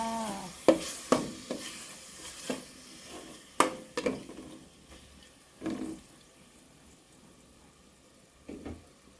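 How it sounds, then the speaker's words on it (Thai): Pork stir-fries in a pan, with scattered scraping strokes and clanks of a utensil over a faint sizzle and light background noise, at a slow uneven pace. "ผัดหมูให้สุกก่อนนะคะ"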